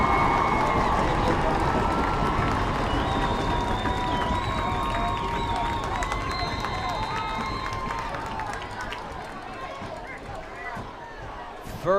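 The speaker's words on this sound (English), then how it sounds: "Listen to this Bonita crowd" A Bonita Bearcats home crowd cheers and roars through the Smudgepot football game against San Dimas, a loud, sustained wash of crowd noise that slowly eases off, with a voice speaking over it.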